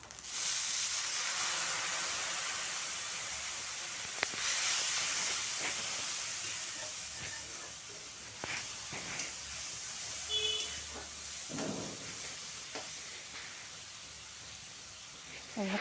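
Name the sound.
water added to frying dry spices, sizzling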